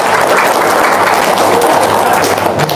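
Audience applause at a motivational talk, a steady dense wash of clapping that fills the whole stretch at high loudness, with a faint murmur of voices mixed in.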